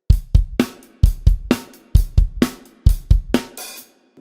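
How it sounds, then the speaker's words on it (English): A rock drum beat, kick and snare hits in a steady rhythm with an opened hi-hat washing out on the four-and, played alone and close. "at a couple of points actually, he opens up the hi-hat."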